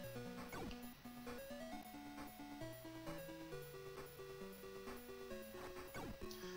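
Dogs barking in a Sega Master System game, heard as short chiptune-style bursts woven through continuous, loud retro game music with a steady melodic line.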